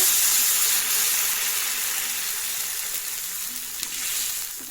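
Water poured into a hot pan of masala with chili powder for matar paneer, bursting into a loud, close, hissing sizzle that gradually settles and fades with a small spike near the end.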